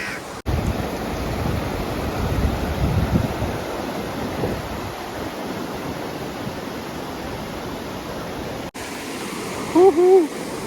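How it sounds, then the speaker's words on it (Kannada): A loud, steady roar of forceful rushing water at Nipli Falls in Uttara Kannada, constant throughout, with a few brief higher sounds near the end. "ಸಿಕ್ಕಾಪಟ್ಟೆ ನೀರು ಹರಿತಾ ಇದೆ, ಫೋರ್ಸ್ ಸಿಕ್ಕಾಪಟ್ಟೆ ಇದೆ"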